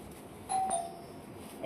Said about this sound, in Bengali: এই কলিং বেল বাজছে, কেউ একটা এসছে